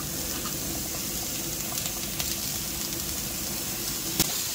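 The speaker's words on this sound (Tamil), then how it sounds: "இங்க குழம்பு கொதிச்சுட்டு இருக்கு பாருங்க." A pot of South Indian kuzhambu curry simmers steadily on the stove, giving a continuous soft bubbling hiss with faint pops, heard close and alone without talk.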